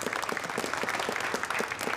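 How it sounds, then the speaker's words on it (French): Audience applause at a gymnastics competition, a dense steady clapping from a crowd sustained for the whole moment, moderately loud and alone without talk. "Veuillez l'applaudir."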